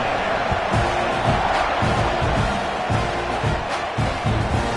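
Stadium crowd at a football game, a dense, continuous roar of buzzing voices with scattered shouts rising and falling across the whole span.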